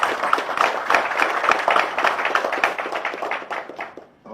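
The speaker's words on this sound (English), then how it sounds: "I think His Excellency deserves a better round of applause for this." Applause from an audience at a gathering of Yoruba traditional rulers, a dense steady patter of many hands clapping that runs on evenly, then thins and fades at the end.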